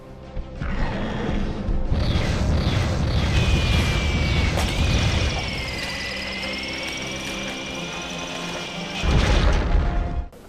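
Video game weapon's micro-robots exploding in a loud, sustained crash and boom, dense rumbling debris with rising whistling tones, then a second heavy burst near the end.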